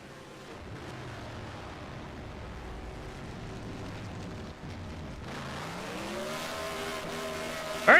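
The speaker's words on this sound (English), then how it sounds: "stick around for these burnouts because they're going to be very special for the driver of the number 13" A race truck from the HOBO Racing Truck Series does burnouts at Nashville Superspeedway after the race, a sustained roaring engine with rising revs and tire noise that swells toward the end, heard from a distance with no talking.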